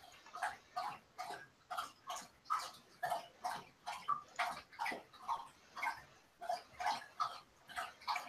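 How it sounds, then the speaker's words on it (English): A dog laps water steadily at close range, with quick, regular wet slurps repeating about once or twice a second throughout, loud and alone with no talk. "I can hear your dog drinking though. Yeah, he's over here lapping away."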